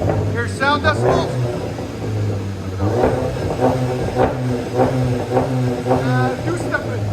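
A VW GLI 2.0L turbo with its resonator deleted and a straight-pipe exhaust idling: a loud, steady low rumble close by, with voices talking over it.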